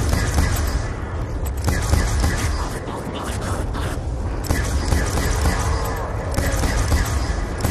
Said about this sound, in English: All I hear is a ray gun spam going off.